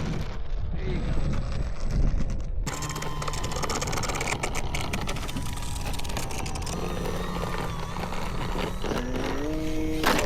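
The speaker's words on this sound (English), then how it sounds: "Oh, wind sucks. The wind comes." Wind at an outdoor model airfield rushes steadily and buffets the microphone, mixed with the whine of a model jet engine whose pitch shifts and rises toward the end. Someone speaks briefly.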